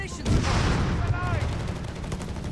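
Whizbang rocket artillery fires in the video game Company of Heroes 3, a dense rushing fusillade of launches with whistling streaks, loud and sustained, while a commentator talks over it.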